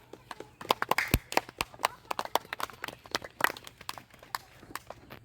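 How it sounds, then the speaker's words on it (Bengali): Irregular bursts of hand clapping from a group at a balloon-popping contest, sharp claps scattered unevenly and moderately close across the whole stretch, with light background voices. "আয় সবাই হাততালি দেওয়া"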